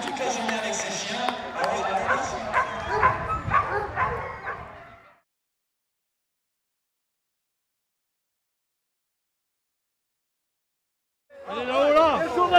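Several boar-hunting dogs bark and yelp in a busy, overlapping chorus at a Saint-Andiol village festival, then silence, then more barking and yipping returns at the end.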